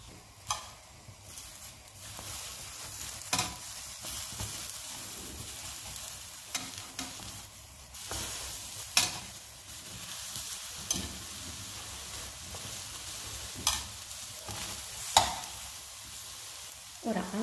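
Eggplant slices sizzle in a pan, a soft, continuous crackle of frying fat broken by sharper pops and occasional clinks of the pan, fairly quiet and close, with no talking.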